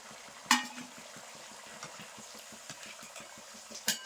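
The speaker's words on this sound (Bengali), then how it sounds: "এভাবে ভেজে নেব চপগুলো" Cauliflower and potato chops frying in hot oil, a steady low sizzle and bubbling with a couple of sharp clinks of a utensil against the pan.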